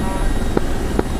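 Helicopter in a military simulation video game: a steady, loud, close rotor and engine drone with faint periodic thumps.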